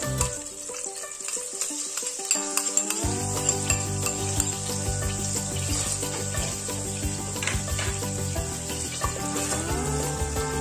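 Soffritto frying in melted butter in a pan sizzles steadily and close, with some stirring and clinks over a continuous crackling hiss.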